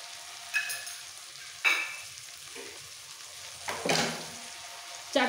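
Garlic, cumin and dried chili paste hits hot frying oil, giving a soft steady sizzle punctuated by several sharp stirring scrapes and bursts, close and fairly quiet with no talking.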